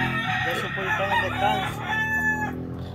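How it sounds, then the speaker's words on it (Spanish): Fighting rooster crowing at a breeder's yard, one long drawn-out crow close to the microphone, with someone talking faintly underneath. "Este gallo tiene un fenotipo envidiable."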